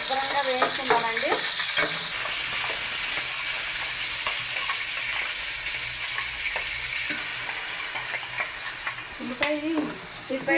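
Green chillies frying in hot oil for a Konaseema-style pond fish curry, a loud continuous sizzle with occasional stirring clinks against the pan throughout.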